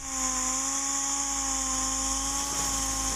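DA orbital sander cutting a plastic bumper repair with 80-grit sandpaper, a steady high-pitched whirring whine with constant loudness, close and alone.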